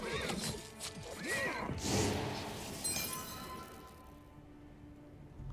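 A horse in the fantasy game King's Bounty II whinnies loudly, with clip-clopping hooves and crashing battle effects around it; the call rises and falls over the first two seconds before the din fades.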